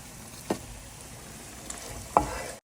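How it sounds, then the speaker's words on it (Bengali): Onions frying in oil left over from frying fish, a soft sizzle under a few spatula scrapes and clinks, close but fairly quiet, with no talk. "মাছ ভাজা তেলে আমি কিছু পেঁয়াজ ভেজে নিচ্ছি"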